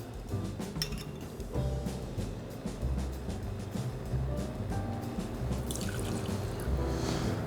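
Vodka pours into a cocktail shaker with a soft, close trickle and light dripping splashes. The sound is quiet and continuous for several seconds.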